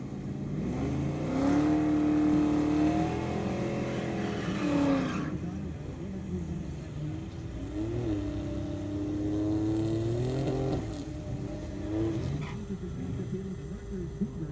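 A Plymouth drag race car at a drag strip roars past with a loud, rising engine howl, which fades before a second swelling engine pass.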